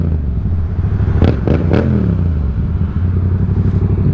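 A loud diesel truck engine idles with a heavy rumble, then revs sharply in several quick bursts before settling back to a steady idle.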